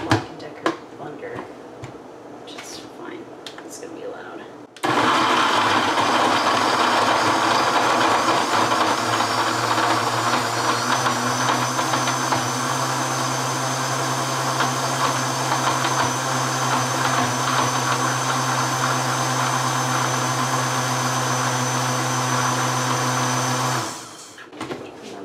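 A mini Black & Decker blender starts after a few seconds of talk and runs steadily for about twenty seconds as a loud, close whirring drone, then cuts off, with speech before and after.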